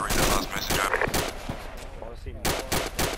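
Rapid bursts of automatic gunfire from the video game ArmA II fill a joint military operation, loud and dense, with brief gaps and radio-style voices talking over them.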